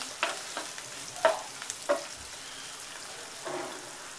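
Onions cook in a pan for Maharashtrian pitla with a low, steady sizzle and scattered stirring taps and scrapes close by, no voices.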